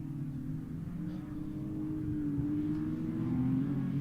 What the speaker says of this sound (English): Hearing the power of that big 6-cylinder engine.